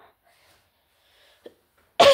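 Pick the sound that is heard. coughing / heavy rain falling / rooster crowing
coughing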